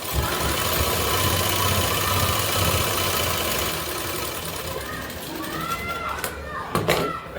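A sewing machine stitches a suit with a steady, close mechanical whir and rapid needle rattle that continues through most of the stretch before easing off, with a voice speaking over it.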